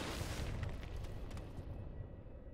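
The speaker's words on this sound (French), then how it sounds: "J'ai entendu une explosion après avoir jeté la grenade" A grenade explosion in the side-scrolling action game GetsuFumaDen: Undying Moon, a dense, rumbling boom with crackling burst texture that rolls on for a couple of seconds before the top end fades out.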